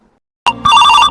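A telephone rings close and loud after a moment of silence, a short first burst followed by a sustained electronic ringing tone, during a call to Bangladesh about buying hilsa fish.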